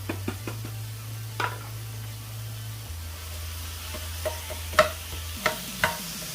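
Onion and green pepper frying in a small amount of oil in a pan, a quiet steady sizzle with a low hum beneath and a few sharp knocks and scrapes of a utensil against the pan.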